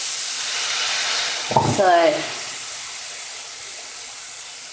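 Black seeds tipped into a hot pan give off a steady, loud sizzling hiss throughout, with a brief clatter as they land and a man's short spoken word over the sizzle.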